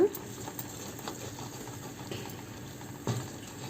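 A curry mixture for jackfruit masala curry stirred in a pan, soft scrapes and light knocks of the spoon over a faint bubbling sizzle, close and fairly quiet.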